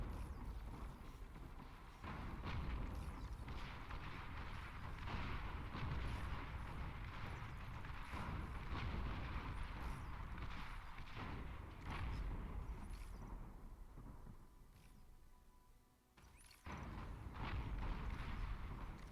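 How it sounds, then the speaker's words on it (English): Fat Boy units in the strategy game Beyond All Reason set off a chain of booming explosions against massed grave robber units, a long rumbling barrage with repeated heavy blasts and brief lulls. "It is very satisfying watching the Fat Boy explode all them grave robbers at once."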